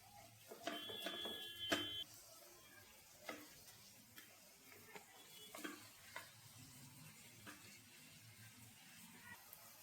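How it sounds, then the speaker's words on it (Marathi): Yogurt paste frying with tomato in a pan gives a quiet, close sizzle with intermittent stirring scrapes and clicks of a utensil, louder at the start and then settling into soft bubbling. "आता आपण ही दह्याची पेस्ट टाकून घेऊ सगळी। हे पण छान परतून घेऊ दही टाकून।"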